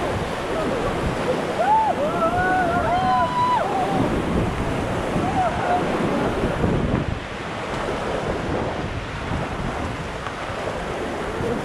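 Whitewater rushes and roars around a raft running a small rapid on the river at Rishikesh, a loud, steady broadband wash with wind buffeting the microphone and faint shouting voices underneath.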